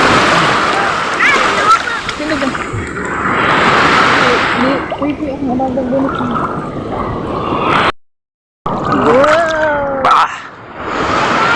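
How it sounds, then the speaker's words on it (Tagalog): Strong waves splash and churn loudly at a swimming spot with deep water, a continuous rushing wash with surges, while people talk and shout over it near the mic. "Lakas ng alon."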